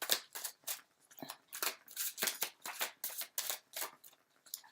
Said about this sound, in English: So I'm going to go ahead and shuffle these as well